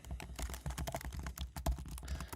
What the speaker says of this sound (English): can you hear how I tap my keyboard?